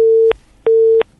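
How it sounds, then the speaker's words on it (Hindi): A telephone busy tone after a dropped call, loud steady beeps in an even on-off pattern, two pulses close up with nothing else heard. "आपका फोन कट गया है नफीस जी"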